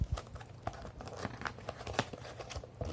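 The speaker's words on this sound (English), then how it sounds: "Alright, let's open the box." Cardboard shipping packaging for an Ajazz AK33 keyboard is torn and opened, giving close crinkling, rustling and tearing sounds with scattered soft knocks and no speech.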